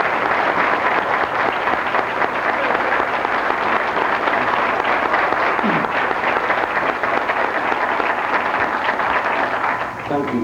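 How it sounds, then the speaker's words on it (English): Sustained, dense applause from an audience honoring two people at a ceremony, steady and loud for about ten seconds with no clear break. "Let's have a nice round of applause for Honoree and Flossie."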